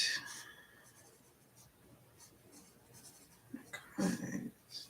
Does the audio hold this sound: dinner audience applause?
no